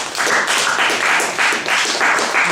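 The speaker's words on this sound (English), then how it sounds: "Everybody give a round of applause." Audience applause following a presentation, a steady dense clapping throughout with no speech.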